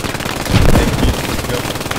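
A machine gun fires one short, loud burst in the Post Scriptum battle game, with the shots close and sharp against the ambient combat noise.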